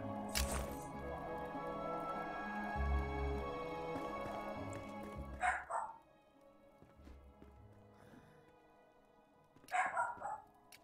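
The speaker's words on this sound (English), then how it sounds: "And I apologize for the dog there." A dog barks in the background, two brief yappy bursts cutting over steady video game music.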